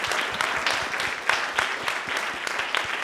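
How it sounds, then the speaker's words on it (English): Audience applause for an interviewer at a street dance and hip-hop oral history event, dense steady clapping filling the room for about three seconds with no speech. "Give a round of applause to Zone, sitting right there, who conducted the interview."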